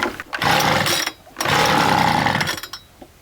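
A small two-stroke leaf blower engine on full choke fires up in two loud, rough bursts of revving, each dying back between pulls.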